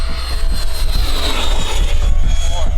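A Flite Test Zephyr RC plane makes a fast speed pass, its electric motor giving a loud rising and falling whine with a whoosh as it sweeps past close by.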